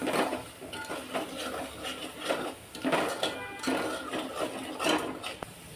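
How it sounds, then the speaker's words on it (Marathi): Konkani-style fish curry masala with salt and soaked kokum being stirred in a cooking pot: a spoon scrapes and knocks against the metal in repeated rhythmic strokes, close and clear, with no talking. "मिक्स करूया."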